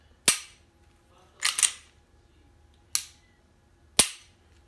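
Sharp mechanical clicks from a Glock 19 trigger being pressed and then reset, four crisp snaps spaced about a second apart, one of them doubled, heard up close in a quiet room with no voices.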